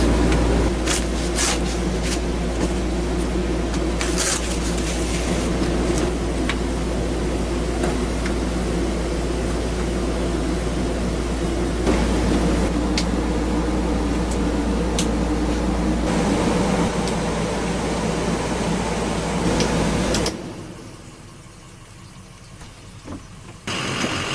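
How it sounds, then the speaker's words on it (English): An air conditioner runs steadily inside a travel trailer on a 96-degree day, a constant droning hum with fan noise that drops off abruptly near the end. "I turned the air conditioner on in here a few hours ago."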